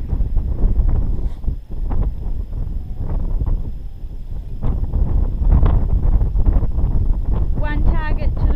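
Strong low wind buffets an outdoor long-range rifle position, a constant heavy rumble roaring across the whole stretch with gusty swells and a few faint rustles.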